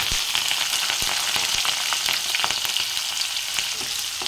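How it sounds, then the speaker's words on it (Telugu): Cumin seeds and green chillies frying in hot oil in a pan with the stove just switched off, a steady dense crackling sizzle with sharp pops, loud and close throughout, no talking. "ఇవి అదే వేడికి పచ్చిమిర్చి ఉన్న జీలకర్ర అయితే తొందరనే ఫ్రై అవుతాయి"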